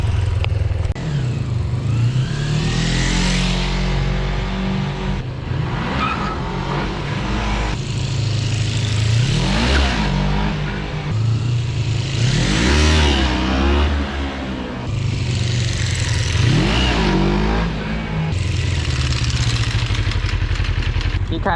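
A motorcycle engine revs in a video game, a loud continuous drone rising and falling in pitch through repeated throttle swells, with someone talking over it.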